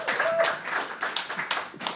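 Scattered clapping from a comedy club crowd at a night show, a steady patter of many hands filling the moment, with a faint voice mixed in.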